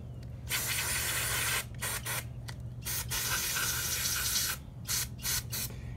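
Carburetor cleaner sprays in several hissing bursts through a 1997 Honda CR250R carburetor, close and fairly loud, separated by short pauses over a low background hum.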